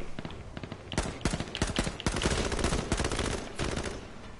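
Rapid bursts of gunfire ring out in the video game H1Z1, a dense run of sharp, repeated shots close up that carries on through the whole stretch with only brief gaps.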